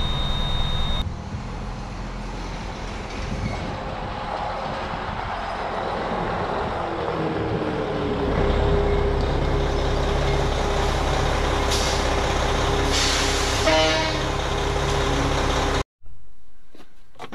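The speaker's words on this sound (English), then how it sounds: "go ahead and give it a few RPMs and let it build some air pressure" Heavy truck engine revving steadily to build air brake pressure on a rig that won't hold air, a loud continuous diesel drone with hissing air bursts near the end before it cuts off abruptly.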